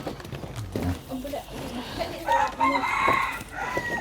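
Close, loud rooster crowing in a drawn-out call, with clucking fowl and people talking nearby.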